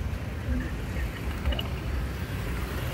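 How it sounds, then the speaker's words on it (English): A steady wash of busy street traffic with cars and motorbikes rumbles nearby in a nightlife district in Thailand. It comes as continuous low road noise, and a person speaks over it. "Traffic is crazy."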